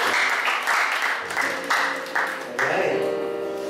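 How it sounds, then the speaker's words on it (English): A congregation at a campus worship gathering applauds in several short bursts of clapping over a few seconds, moderately loud and close, with some speech mixed in. "Let's all give a clap offering to everyone."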